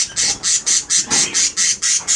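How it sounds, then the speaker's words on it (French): Lovebirds, small parrots kept in an aviary in Tahiti, squawk in a loud, shrill, rapid rhythm of about ten harsh calls in a row, close and continuous. "Et là, on est avec des lovebirds, des inséparables."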